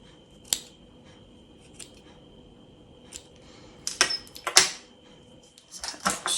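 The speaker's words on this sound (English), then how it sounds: "Hold the bottom, and we're going to cut through all the loops" Sharp scissors snip through crocheted yarn loops on an amigurumi Easter bunny bunting: a few isolated close crisp cuts, then a quick cluster of snips and a final run of cutting, with quiet pauses between.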